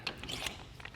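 A large bench vise on a Daimler chassis-restoration table is loosened, lifted and swapped around, giving a quiet cluster of metallic clanks, ratcheting clicks and scrapes over about a second.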